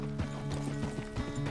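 Horse hooves clip-clopping on the ground in Red Dead Redemption 2, a steady walking rhythm of repeated soft thuds, close and moderately loud with no talk over them.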